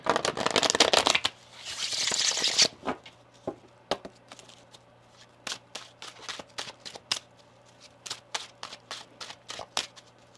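Tarot cards being shuffled by hand: a dense riffling burst at the start, then a string of crisp, close snaps and flicks as cards are cut and dealt, with no speech.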